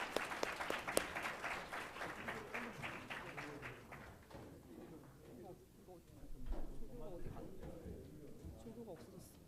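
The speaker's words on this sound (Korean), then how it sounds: "예, 박수 한번 치겠습니다." Applause from an audience closing a professor's farewell lecture, a dense clatter of many hands that is loudest at first, then thins and swells again with voices mixed in.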